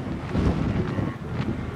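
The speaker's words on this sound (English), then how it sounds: "It's so windy, you probably can't hear me" Strong wind buffets the microphone in rumbling low gusts, with no voices.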